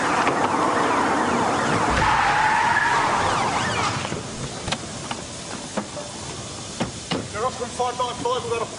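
A car skids as it is forced off the road against a police car in a crime drama scene, a loud sustained tire screech and engine roar giving way to a few sharp crunching impacts and clattering debris.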